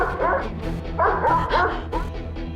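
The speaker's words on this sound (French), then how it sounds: "C'est un chien, n'est-ce pas? Alors c'est normal s'il aboie." Tiger the dog barks in a handful of short, insistent yips and bow-wows, close by and fairly loud, with brief whimpering pauses between bursts.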